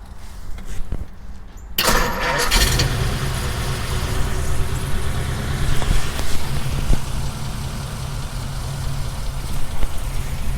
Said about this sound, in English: The fan is spinning, so yeah, I think it started.